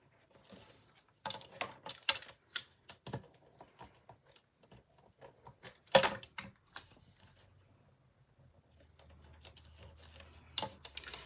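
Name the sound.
tape runner applying adhesive to card layers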